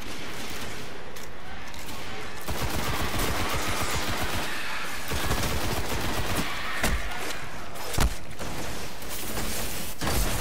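Enemies fire guns in the Destiny video game: dense, continuous rattling bursts of gunfire with a few sharper single reports standing out near the end.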